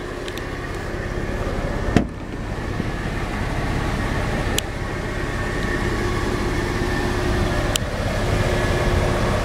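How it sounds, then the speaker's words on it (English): A manual-transmission Jeep driving up a road, its engine and road noise forming a steady loud rumble heard from inside, broken by a few sharp clicks or knocks. "get in the Jeep, drive it up the road so you can see it runs, drives, and shifts as it should"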